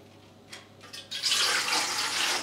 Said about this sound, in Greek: Τώρα θα βάλουμε όλο το νερό που θα χρησιμοποιήσουμε για το πρόσφορο και τα 800 ml.